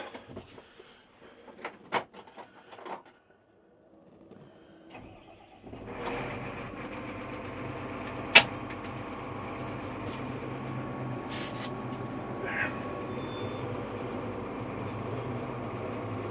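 A few clicks and clunks, then the large engine of a new Fendt Rogator sprayer turns over and settles into a steady low rumbling idle, with occasional sharp knocks.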